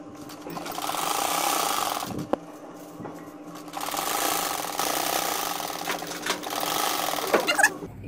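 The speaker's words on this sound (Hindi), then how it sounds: "अब हम इसको इस साइड से सिलाई लगाना स्टार्ट करेंगे।" A sewing machine runs along the side of a bed sheet in long, steady buzzing bursts, close and loud, pausing briefly between runs with a few clicks and handling noises.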